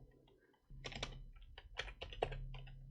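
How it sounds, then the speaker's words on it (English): Rapid, uneven typing on a computer keyboard, with close, crisp key clicks arriving in short bursts over a low background hum. "man, I can't type today"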